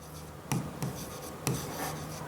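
Marker or chalk strokes on a board during a chemistry lesson, a few close scratchy taps and short squeaks in an uneven rhythm, with no speech over them.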